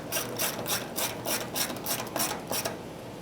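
Ratchet wrench tightening small fuel pump bolts on a 2012-2017 Toyota Camry fuel tank, a close, rapid series of clicking pawl strokes in regular bursts, loud and alone without speech.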